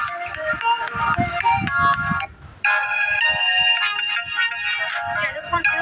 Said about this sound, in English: I actually used to use these ringtones.